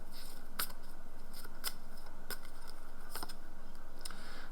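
Tarot cards pulled from a deck make a few sharp, crisp snaps and flicks spaced across a few seconds, close and fairly quiet, with no talking.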